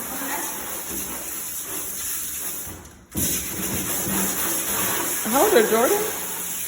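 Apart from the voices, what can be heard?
water spray rinsing a dog during a bath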